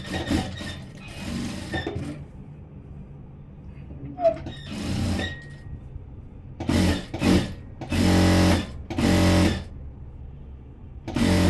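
A sewing machine stitches a blouse in short, loud mechanical bursts, several quick runs separated by pauses and handling noises, close and clear.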